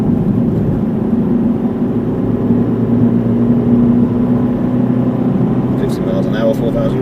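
Car engine pulling steadily at high revs through the gears on a rural road, a loud continuous droning hum heard from inside the cabin, with a few clicks near the end.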